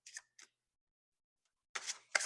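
Tarot cards with stiff cardstock being shuffled nearby, a few brief crisp riffling bursts separated by silence, quiet and close.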